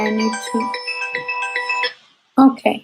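A phone rings with a melodic ringtone, loud and close, playing a repeating tonal pattern before stopping; a voice speaks briefly just after.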